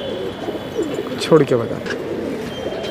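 Lal Chapdar Ambalsare pigeons coo in low, throaty phrases close by while someone speaks briefly over them, with a clearer burst of cooing in the middle.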